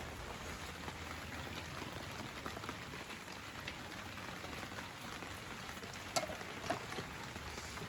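Rain falling in a village, a steady hiss of drops on surfaces with occasional louder nearby drips, soft and continuous with no one talking.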